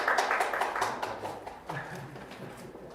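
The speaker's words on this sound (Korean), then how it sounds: "축하의 박수 부탁드리겠습니다" Applause rings out at a Korean award ceremony for disability employment, a burst of hand claps from a modest crowd that thins and fades over a few seconds.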